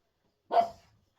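A single sharp, close bark from a dog indoors rings out alone after a moment of silence, then fades quickly.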